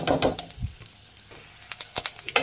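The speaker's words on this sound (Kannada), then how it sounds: "ಮೀಡಿಯಂ ಫ್ಲೇಮಲ್ಲಿ ಇಟ್ಬಿಟ್ಟು ಫ್ರೈ ಮಾಡಬೇಕಾಗುತ್ತೆ" Whole spices — cloves, cardamom, fennel seeds, peppercorns and ginger — frying on a medium flame for biryani, a soft sizzle broken by several sharp spoon scrapes and clicks, close and fairly quiet, with no talking.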